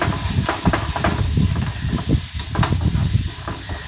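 Ginger garlic paste sizzling loudly in a hot pan with oil, a steady close hiss and crackle throughout, with occasional stirring scrapes.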